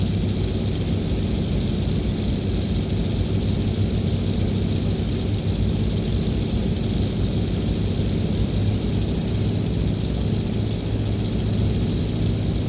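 A de Havilland Beaver's radial piston engine on its takeoff roll in X-Plane 11 gives a loud, steady, full-throated drone with a deep low rumble that holds level throughout, with no voices.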